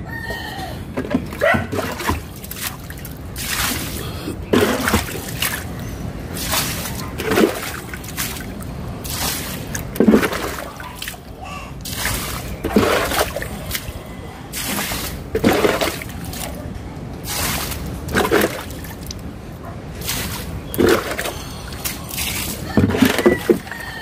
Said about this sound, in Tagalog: Tubig.